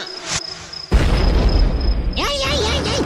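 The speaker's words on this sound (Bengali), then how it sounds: "উড়ি বাবা রে, বোমা যাচ্ছে কে?" Cartoon bomb explosions in a Bengali animated episode: a sudden loud boom bursts in about a second into the clip, followed by sustained rumbling noise, with a shrill tone and cartoon voice sounds layered over it.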